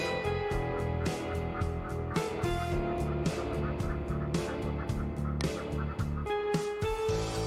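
Loud nasal duck calls repeat in quick succession, harsh harmonic quacks stacking over one another without pause.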